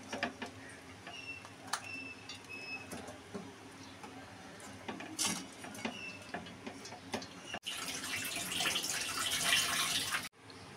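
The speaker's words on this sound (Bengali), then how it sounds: "এই কড়ার জলটাকে ফেলে দিতে হবে।" Dark water from boiled taro leaves is poured out of a kadai pan, a steady splashing rush of several seconds that follows scattered clinks and small knocks of cookware, close by with no voices.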